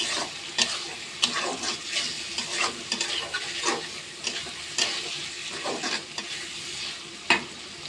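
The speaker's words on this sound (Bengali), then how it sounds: "চিংড়িগুলো ভালো করে কষাই নিব।" Prawns sizzle in a pan while a spatula stirs and scrapes in repeated strokes, each stroke a sharp scrape over a continuous close frying hiss.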